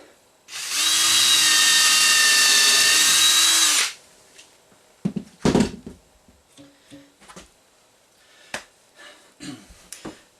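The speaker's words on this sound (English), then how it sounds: "Right, pilot holes are drilled." A power drill bores pilot holes into wood with a slightly dull bit, a steady high whine lasting about three seconds, followed by scattered small clicks, taps and handling knocks.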